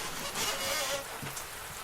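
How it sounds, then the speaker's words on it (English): Steady rain hissing down on a surface, a constant wash of noise with faint patters, fairly close and unbroken. "Sneaking back in the rain and dark during curfew."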